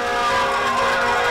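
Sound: sirens during a parade in downtown streets

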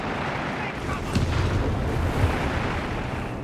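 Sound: Panther tank gun firing in Company of Heroes 3 video game

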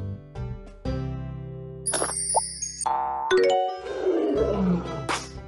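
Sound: lion roaring

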